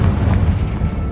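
A Confringo fire spell detonates in Hogwarts Legacy, a loud, dense low boom that rolls and rumbles through the whole moment with no voices over it.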